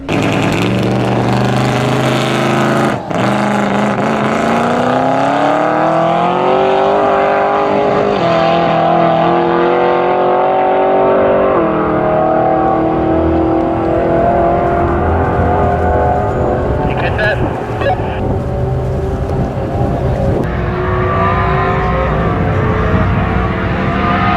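A 1400 hp turbocharged Buick Skylark on 30 psi of boost accelerates hard at high speed, its engine a loud, continuous roar rising steadily in pitch through the gears with brief dips at shifts, close and alone without talk.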